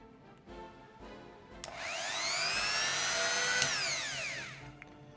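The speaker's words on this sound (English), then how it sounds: "And then I took this hand sanding tool" A small hand-held rotary sanding tool spins up, whines steadily at high pitch for about two seconds while sanding plastic, then winds down. It sounds close and moderately loud.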